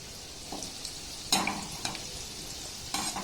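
Gulab jamun made with semolina frying in hot oil as oil is spooned over them, a soft continuous bubbling sizzle broken by a few brighter splashy bursts, with no voices.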